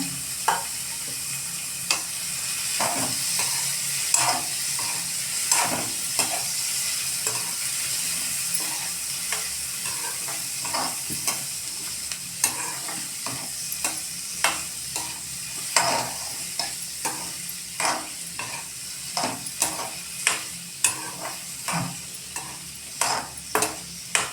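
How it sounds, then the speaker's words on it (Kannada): Peas, beans and cauliflower sizzling in a pan for gobi masala while a spoon stirs them, steady frying hiss under repeated scraping clicks and taps that continue throughout. "ಬಟಾಣಿ ಬೀನ್ಸ್ ಎರಡು ಹಾಕೊಂಬಿಡ್ರಿ ಕೈ ಆಡಿಸ್ಕೊಡ್ರಿ ಅದನ್ನು"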